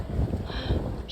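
Gusty wind buffets the microphone outdoors on Jeju Island, a steady low rumble with slight swells through the whole short moment and no voices over it.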